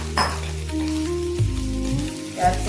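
Browned onions fry in a pan with a continuous crackling sizzle and stirring, close up, alongside a low steady hum from the stove or kitchen.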